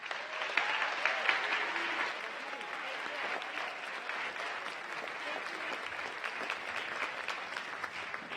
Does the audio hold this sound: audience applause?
yes